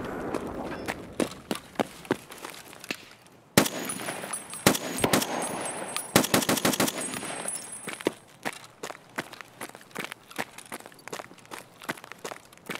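An M1A rifle fires in Escape from Tarkov, a burst of loud, sharp shots in quick succession, plus footsteps and clattering.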